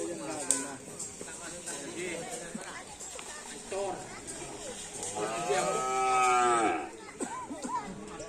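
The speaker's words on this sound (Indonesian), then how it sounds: "Ini ada sapi yang mau dilepas ini teman-teman." Cattle low loudly with a drawn-out moo near the end, amid crowd chatter and people talking at an open-field Karapan Sapi bull race practice, with steady outdoor background noise throughout.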